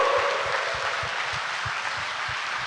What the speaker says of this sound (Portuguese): Dê uma salva de palmas, minha gente, para esse brada.